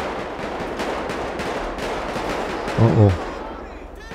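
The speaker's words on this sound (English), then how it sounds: "Who's shooting over here?" Gunfire in a police-patrol mission in GTA 5, set in Los Santos during an arrest: a short, loud burst of a few shots near the end over constant game ambience, with people talking throughout.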